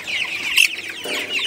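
A red hen, a Tiger breed chick of about 660 grams, clucks while being held in the hand, giving a few short close calls with one louder squawk in the middle.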